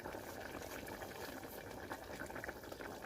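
A pot of Gujarati dhokli curry bubbles at a steady low simmer, with a soft continuous gurgling and faint popping bubbles close by and no talking.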